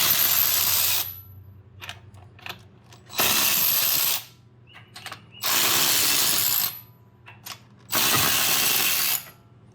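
A Milwaukee M12 Fuel high speed ratchet (2566-22) spins lug nuts off a wheel in four loud, roughly one-second whirring bursts, with light clicks and rattles in the pauses between them.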